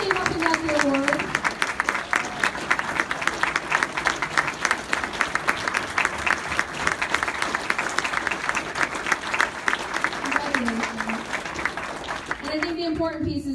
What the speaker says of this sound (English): I'd like to have all the winners stand for a final round of applause